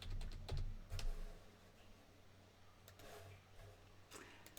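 Quick keystrokes on a computer keyboard during a programming exercise, a few faint clicks in short clusters with pauses between, quiet and close.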